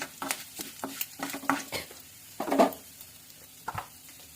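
Dried red chillies and curry leaves fry over a low flame: quiet crackle and sputter broken by repeated spoon scrapes and taps against the pan, with a louder burst of stirring midway, close by and without talk.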